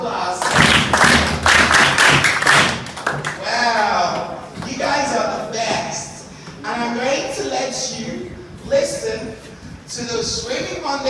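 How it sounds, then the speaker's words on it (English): Students at a school water-safety talk clap together as a group, a dense burst of applause for the first few seconds that gives way to someone speaking loudly over fading scattered claps and taps. "give yourselves a huge round of applause"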